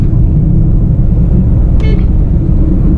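A Renault Scala sedan accelerating on the road, with a loud, steady low engine and road rumble throughout and a brief faint chirp near the middle.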